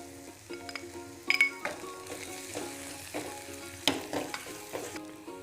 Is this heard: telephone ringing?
no